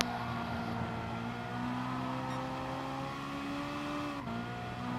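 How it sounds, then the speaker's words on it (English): Race car engine held at full throttle in a racing video game at Autodrome Lago Maggiore, a loud, steady tone rising in pitch through the gear, then a quick gear change and the climb starts again. "Fully accelerating."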